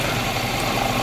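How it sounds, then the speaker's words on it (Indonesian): A motorcycle engine idles steadily during an engine check for signs of worn cylinders or piston rings, a constant close-up rumble with a faint ticking, heard alone without talk. "amati suara mesinnya"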